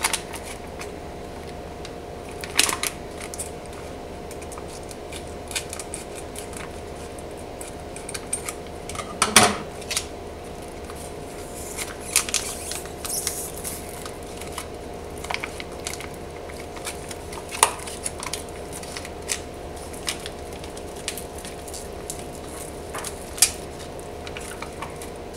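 An MRE pouch of Lithuanian beef stew being cut open, with a few sharp crackling snips and rustles over a steady low hum, one louder burst near the middle.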